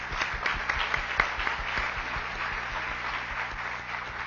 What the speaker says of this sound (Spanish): Un aplauso para Marcelo.